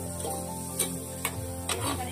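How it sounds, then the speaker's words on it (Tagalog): Meat, onions, garlic and tomato sauté for Filipino pinakbet, a steady sizzle under a few sharp scraping stirs spaced through the clip. "after ko magisa yung mga karne, mga sibuyas, bawang, gigisahin ko naman itong kamatis"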